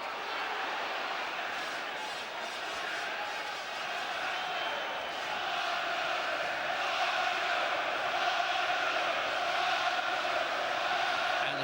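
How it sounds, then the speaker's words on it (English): A boxing arena crowd roars during a 1995 fight, a broad sustained wall of voices that swells slightly toward the end, with a commentator faintly audible under the noise. "Crowd roaring now for Ben."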